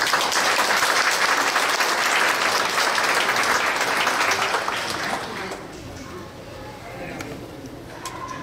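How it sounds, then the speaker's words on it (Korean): A congregation claps as a guest comes forward at a church's 70th anniversary thanksgiving service: dense, loud applause for about five seconds, then tapering into scattered faint claps and room noise. "우리 나오실 때 박수하겠습니다"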